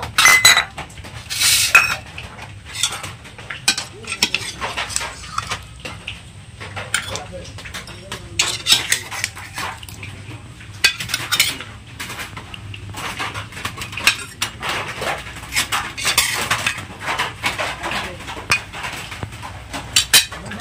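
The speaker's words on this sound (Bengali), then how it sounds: "পোলট্রির মাংস একটা বাটিতে তুলে নেব" A spoon scrapes and clinks against dishes as poultry meat is served into a bowl in a home kitchen on a rainy day, with scattered close metallic and ceramic knocks under intermittent talking.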